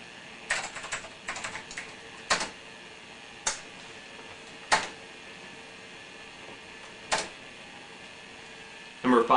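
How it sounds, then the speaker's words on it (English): An old computer keyboard clacks at an MS-DOS prompt, first in a quick flurry and then as spaced single key presses. A heavier burst of keys lands at the very end, all close and fairly loud. "Gotta love these old keyboards. They don't make them like this anymore."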